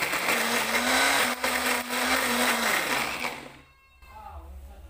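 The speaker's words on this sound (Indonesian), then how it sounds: "lalu blender bumbu hingga halus" An electric blender grinds spice paste for an Indonesian home-cooked dish, a loud steady whirring roar that runs for several seconds, then cuts off abruptly into quiet.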